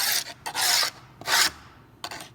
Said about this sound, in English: It's way easier to hold this scraper with two hands than to try to hold the work and scrape.